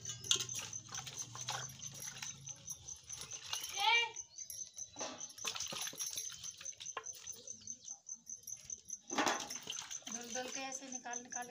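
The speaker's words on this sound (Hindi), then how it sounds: "अब हम धोएंगे इसको।" Cut pieces of elephant foot yam are washed by hand in a vessel of water, with close splashing and sloshing, a couple of louder swishes, and a voice speaking over the water.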